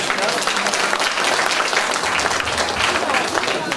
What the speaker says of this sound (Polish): Brawa oczywiście.